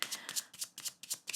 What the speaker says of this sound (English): rest assured I've nearly finished this shuffle